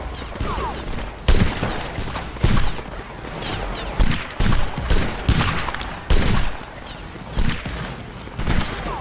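Musket volleys crack out in the Napoleonic Wars battle game, Spain against Italy, as repeated loud ragged bursts of massed gunfire that come roughly every second or two over a constant battlefield din.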